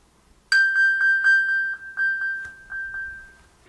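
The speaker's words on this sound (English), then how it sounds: "We also have this pinging option, which allows us to locate our lost phone." An iPhone pinged from an Apple Watch plays a bright, high electronic chime, repeating about ten times in quick pulses close by, starting after a brief silence and continuing to the end.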